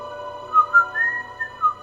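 A person whistles a light tune alone, the melody rising and falling in short swelling notes with no talking.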